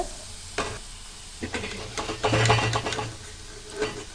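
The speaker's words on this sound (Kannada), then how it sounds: "ನೋಡಿ ಈ ಥರ ಗೋಲ್ಡನ್ ಬ್ರೌನ್ ಬರೋವರೆಗೂ ಫ್ರೈ ಮಾಡ್ಕೋಬೇಕು ಆಗ ಮಾತ್ರ ಚೆನ್ನಾಗಿ ಫ್ರೈ ಆಗಿರುತ್ತೆ ಪಕೋಡ" Onion pakoda deep-fry in oil with a soft close sizzle, broken by several bursts of stirring and scraping in the pan, the loudest coming midway. No one speaks.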